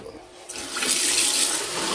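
Water runs from a tap while vegetable planting is under way, starting softly and then gushing into a steady, full hiss that continues to the end.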